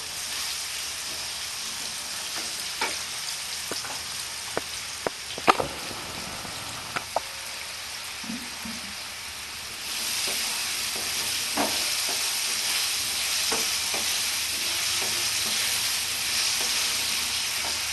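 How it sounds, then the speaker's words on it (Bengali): Potatoes sizzle in oil with turmeric and nigella seeds for Bengali-style kochur loti chingri, a constant close crackle broken by sharp utensil taps and stirs, growing louder partway through, with no talking. "আলুটা একটু ভাজা ভাজা হলে আমি পেঁয়াজগুলো দেবো"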